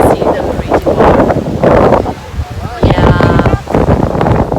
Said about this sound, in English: it's windy and you can see the pretty water.